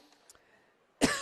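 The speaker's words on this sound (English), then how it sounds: "I've got the cough now too" A single sharp cough from a basketball commentator bursts out near the end, loud and close after a quiet stretch.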